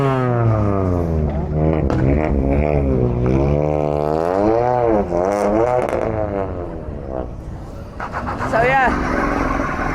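High-powered cars revving at a night car meet in Eden Car Park, engines rising and falling in long sweeping revs, loud and close, with a person talking briefly.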